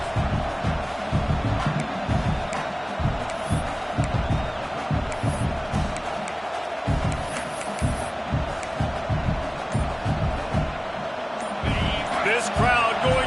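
Stadium crowd roar in a College Football 26 game, a steady loud wall of cheering with rhythmic low thumps and swells, running continuously under a commentator's voice.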